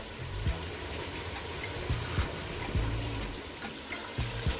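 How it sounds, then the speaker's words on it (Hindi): Excess water drains off boiled rice in a steady trickling pour, with faint taps and knocks of the pot recurring under the flow. "ये चावल हमारे हो गए हैं, आप इनका एक्सेस वाटर जो है वो ड्रेन कर लेंगे।"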